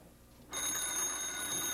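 A telephone begins ringing after a short quiet moment, a bright, sustained metallic bell trill that continues steadily and fairly faint to the end.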